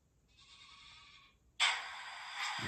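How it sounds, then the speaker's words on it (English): An electronic sheep bleat plays from the sound decoder of an HO scale model train cattle car: a faint, thin bleat, then a sudden louder burst of hissy sound that fills the rest of the quiet moment. "one of the cattle cars has a Soundtrack's sound card decoder in it. Yep, I hear sheep."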